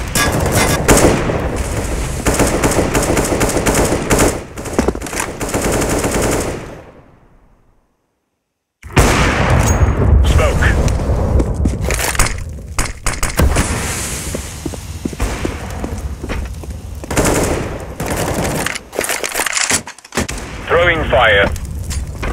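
Grenade and smoke grenade thrown during a Counter-Strike match, with dense loud gunfire, blasts and game noise throughout, a brief silent gap partway, then continuous bursts of shooting and explosions.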